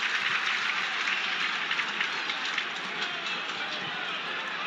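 Sustained roar of a football crowd at a Burnley versus Millwall match, a dense steady wash of cheering and clapping that fills the stadium evenly without clear peaks.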